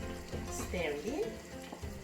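Tilapia fish pot with bay leaves being stirred in, a soft continuous sizzle with light scraping of the spoon, close and moderately quiet, no talking.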